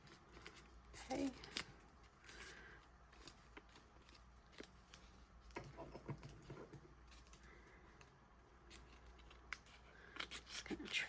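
Scissors trim paper for field notes ephemera in a series of quiet, close snips scattered through the stretch, with rustling paper and handling noise between the cuts.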